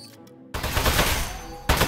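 Gunfire in the video game Aperture Desk Job: after a short quiet moment, a dense, loud burst of continuous shooting runs for over a second and then surges again at the end.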